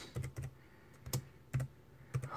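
Keys on a computer keyboard clack as a command is typed, five distinct close keystrokes spaced unevenly, with no talking over them.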